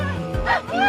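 A man imitates a dog on a roadway, giving a short, loud, close yelping bark followed by a whimpering whine, the human voice clearly mimicking a dog.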